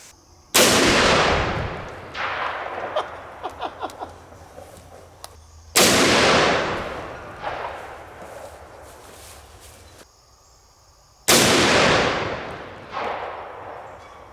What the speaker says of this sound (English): And now we're going to shoot this thing for the first time.